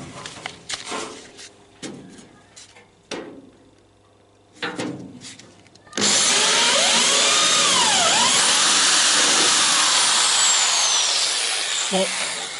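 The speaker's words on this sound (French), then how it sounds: "Je vais pouvoir déjà pré-percer les trous des rivets." A power drill pre-drills rivet holes through car body sheet metal on a Citroën Traction 11B under restoration, starting abruptly as a loud, steady high-pitched whine that runs unbroken for several seconds, preceded by brief clatter and a few spoken words.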